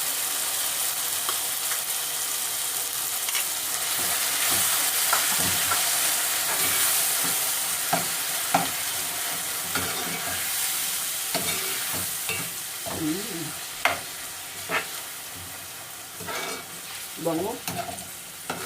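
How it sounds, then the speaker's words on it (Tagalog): Tuna sautés for tuna carbonara in a pan, with a steady close sizzle and scraping strokes of a spatula stirring the pan. No one speaks. "Igisa lang natin mabuti guys. So, lagyan na natin itong ating tuna."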